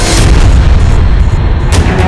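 A loud explosion blast sound effect in a crime drama, a deep booming rumble that fills the whole moment, heavy and close with no voices over it.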